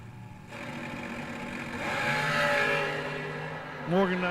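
A drag racing car sits at the start line at a drag strip event, its engine idling then swelling into a sustained throttle rev, ending with a short rising whine, loud and close under an announcer's talk.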